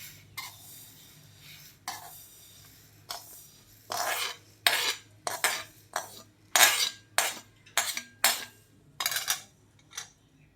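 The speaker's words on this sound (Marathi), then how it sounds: "आता आपण एका प्लेटमध्ये थंड होण्यासाठी काढून घ्यायचे" Roasted wheat semolina scraped from a pan onto a plate, a series of sharp metallic scrapes and clinks that grow louder and quicker, close up with no talking.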